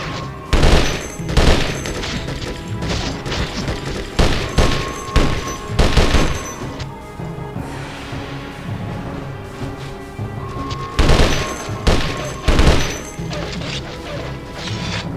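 Gunfire bursts in Conflict: Desert Storm, several loud close volleys of rapid shots and crashes in clusters, separated by quieter stretches of game ambience.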